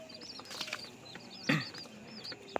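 Twenty-day-old king quail chicks flap their wings in a short, sharp flurry, with soft chirps scattered around it.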